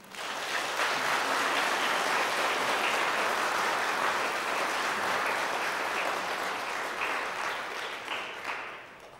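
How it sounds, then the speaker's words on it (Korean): A church congregation applauds during a Sunday worship service, a dense, steady wash of many hands clapping together that holds loud for about nine seconds before easing slightly at the end. "여러분들 축하와 격려의 박수 부탁드리겠습니다"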